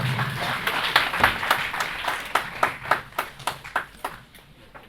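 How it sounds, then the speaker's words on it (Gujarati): An audience at an awards ceremony in Ahmedabad applauds, a dense patter of clapping that swells and then fades into a few scattered claps, heard fairly close with no voices over it. "નિસાર અંસારી સાહેબ દ્વારા વકાર કાઝી માટે ખૂબ જોરદાર તાળીઓ"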